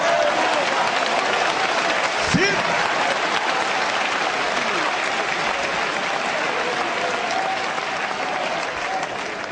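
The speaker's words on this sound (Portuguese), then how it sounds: "Aplauda o Senhor e adore a Ele." Sustained applause from a church congregation fills the room, steady and dense throughout, with a faint voice briefly rising over the clapping.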